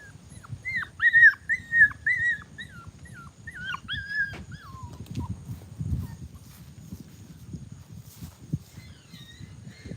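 Young puppies left alone whimpering and whining in high, rising cries, several close bursts early that thin out over time, with light shuffling and thumps underneath.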